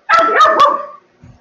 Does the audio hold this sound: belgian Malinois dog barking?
yes